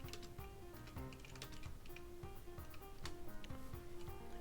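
Typing a command on a computer keyboard: a quick, continuous run of close, crisp key clicks with a faint hum underneath.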